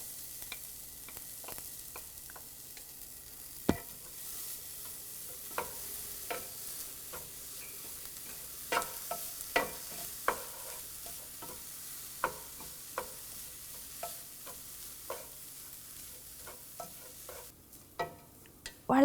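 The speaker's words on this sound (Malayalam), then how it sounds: "ഇഞ്ചി 3/4 ഭാഗത്തോളം വറന്നു കഴിയുമ്പോൾ ഇതിലോട്ട് വളരെ തിന്നായിട്ട് നമ്മൾ കട്ട് ചെയ്ത് വെച്ചിരിക്കുന്ന പച്ചമുളകിട്ട് വഴറ്റുക." Ginger and thinly cut green chillies sautéing in a pan for a Kerala ginger curry (inji curry), with a steady low sizzle broken by frequent sharp clicks and taps of a spoon stirring against the pan, no talking.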